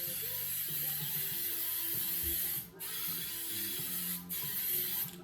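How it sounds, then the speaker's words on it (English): Spray adhesive hissing from an aerosol can onto the headliner board of a 1993 Ford Mustang Fox Body, a close, continuous hiss broken by two brief pauses, over a faint low mechanical rattle, with no talk. "when you spray the glue on the headliner material itself"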